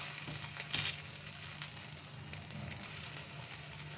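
Rava dosa sizzles steadily on a hot griddle, a close, continuous crackle and hiss with no voices.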